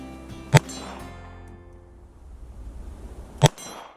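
Two sharp metallic clangs ring out a few seconds apart, each a bullet from a Sig Sauer P210 pistol striking a distant steel target, with a faint ringing tail over quiet background.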